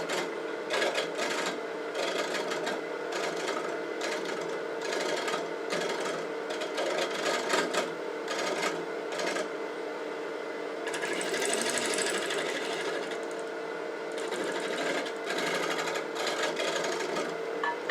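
A shear scraper rasps against a large cherry burl bowl spinning on a lathe, giving a steady gritty scraping under the motor's drone, broken by short pauses as the tool lifts and re-engages.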